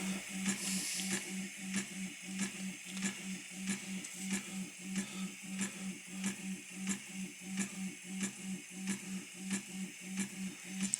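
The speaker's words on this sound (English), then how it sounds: "printer is just re-zeroing itself." A 3D printer hums softly while homing its axes, with a regular ticking pulse of motor steps repeating about every half second.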